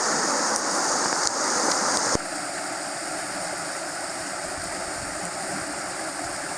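River current on the Ozark National Scenic Riverways rushes in a steady, broadband wash. A brief louder splash comes near the start, then the flow continues evenly and close by.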